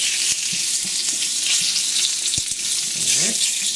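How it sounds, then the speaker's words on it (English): Fresh sage leaves and sliced garlic clove frying in hot oil in a pan, a steady loud sizzle with a few stirring knocks and scrapes, close up and with no talking. "Sage in our oil. Flavor that oil a little bit. And we also got a clove of garlic that's sliced up."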